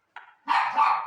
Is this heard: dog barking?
yes